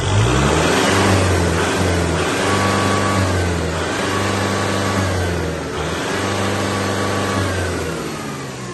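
A 2023 Kubota M6040 tractor's diesel engine rumbles loudly up close, rising and falling in several rev cycles with a droning low tone and a faint whine, without any talk over it.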